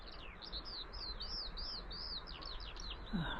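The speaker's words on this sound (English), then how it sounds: "there's another skylark serenading us" A skylark sings continuously on a coastal clifftop path near a lighthouse: a steady stream of high, warbling trills and chirps, fairly close and clear over a soft breeze, with no talking.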